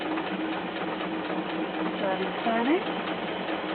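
A sewing machine stitches around the top of a fabric bunny's ears in a steady continuous hum, pausing briefly as the fabric is turned, with a person talking over it.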